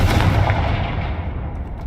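A Confringo blasting spell from the game Hogwarts Legacy goes off as a loud, booming explosion that rumbles and slowly fades over a couple of seconds.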